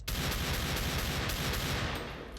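Desert Eagle pistol fire in CS:GO comes as a loud, dense burst of gunshot noise that lasts about two seconds and then tails off.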